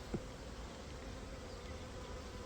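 Honey bees on a hive frame give a low, steady drone that stays close and fairly quiet, with one brief tap near the start and no voices.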